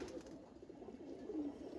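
An old Jira-neck pigeon gives a faint, low, rolling coo, quiet and alone without talk.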